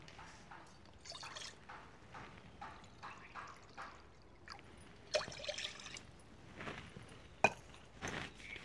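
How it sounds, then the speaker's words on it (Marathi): Water is poured from a bowl into a kadhai while making sugar syrup for balushahi, giving soft, quiet splashes and trickles in several short bursts with pauses between them. "हे पहा कढईमध्ये ह्या वाटीने 2 वाट्या पाणी टाकून घ्यायचंय"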